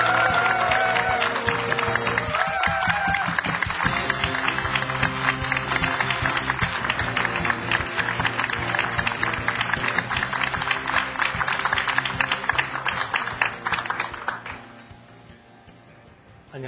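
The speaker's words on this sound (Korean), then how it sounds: "서동원 부위원장을 힘찬 박수로 맞이해 주십시오." Hall audience gives a steady, dense round of applause welcoming a lecturer from the Korea Fair Trade Commission, loud and sustained before fading out near the end.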